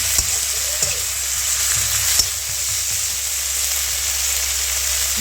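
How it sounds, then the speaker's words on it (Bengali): Garlic paste fries with browned onions in a pan, a steady close sizzle with a few clicks of a spoon stirring, no voices. "এবার দিয়েছি রসুন বাটা, একটু একটু ভেজে নেব"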